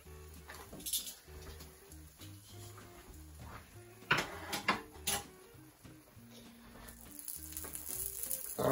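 Food sizzles and fries in a hot pan, a quiet steady crackle with a few louder pops and clatters of utensils or the pan, with no talk.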